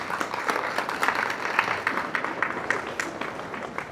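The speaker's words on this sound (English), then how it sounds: "Let's give them a big round of applause" A seated audience at a city State of the City address gives steady, moderately loud applause that fills the room for a few seconds, with no voices rising above it.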